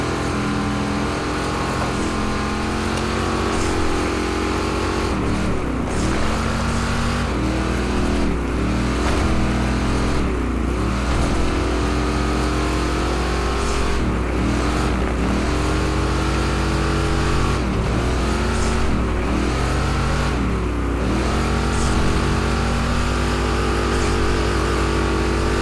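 A racing car's engine in a driving game screams steadily at the red line in top gear with four speeds, a constant high drone broken by brief dips and swells, with no talking.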